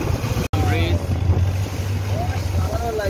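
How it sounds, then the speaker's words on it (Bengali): A tour boat cruising on water in Thailand: a steady, low engine drone runs throughout with wind buffeting and water wash, a brief dropout near the start, and faint voices in the background. "যাচ্ছে আমাদের নৌকা।"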